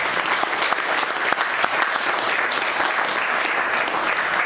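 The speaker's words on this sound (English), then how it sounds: "let's give Will a round of applause" Audience applause for Will of Earth Starch Organic Solutions: a close, sustained round of many people clapping, steady and loud throughout, with faint murmurs underneath.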